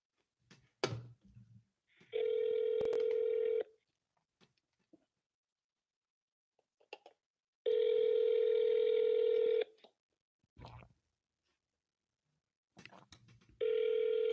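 A telephone call rings out repeatedly: long, loud ringback tones in a steady pattern, separated by quiet gaps with faint clicks and brief tapping, as an unanswered cold call keeps ringing.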